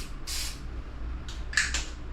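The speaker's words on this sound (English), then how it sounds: "So that was the cologne, and then the room spray" Several short hissing bursts of a room spray aerosol, one brief puff followed by a quick cluster of two or three more, close and fairly loud in a quiet room.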